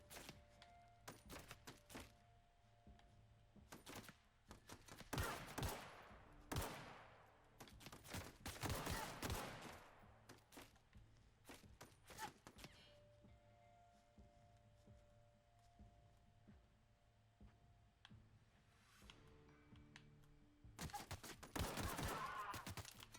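Bursts of automatic weapon fire in The Outer Worlds combat, scattered volleys of varying loudness with quieter gaps and clatter in between, with no talking.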